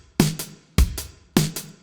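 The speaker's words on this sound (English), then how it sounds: "The vintage dry kit in Addictive Drums." Vintage dry drum kit from Addictive Drums playing a sparse beat of three kick-and-snare pairs, punchy and close with short, dry decays.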